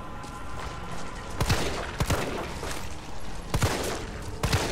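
Gunfire in the Resident Evil 3 Remake video game, several sharp shots spaced about a second apart over a dense, continuous game background.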